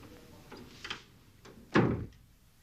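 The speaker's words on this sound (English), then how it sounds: "Close the door, please." A door being pushed shut indoors: a couple of faint bumps and shuffles, then one solid close with a dull thud near the end, fairly close, with no talking.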